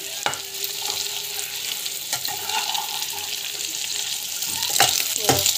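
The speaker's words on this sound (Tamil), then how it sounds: "உப்பு எதுவுமே போடல, ஜஸ்ட் வந்து வதக்கிறேன்" Ingredients being sautéed in a pan with no salt added, a steady close sizzle with scattered clicks of a spoon stirring and scraping against the pan.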